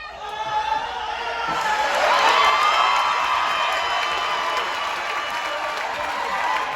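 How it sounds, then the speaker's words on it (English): On a cruise ship's Love and Marriage Show, a crowd claps, cheers and whoops for newlywed couples. The noise swells to a loud peak and then holds as a broad, busy roar, with voices mixed in. "Give them a nice big round of applause, our newlyweds"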